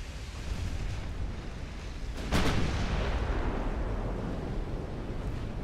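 A naval gun fires once in the middle of an 1890s warship battle in Ultimate Admiral: Dreadnoughts: a single sharp boom over a steady rumble of sea and engine noise, with no voices.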